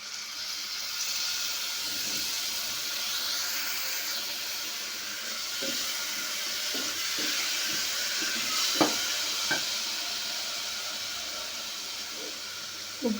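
Curd goes into a pan of frying masala for a Telugu veg rice bath, giving a steady sizzling hiss with occasional small pops and spoon taps.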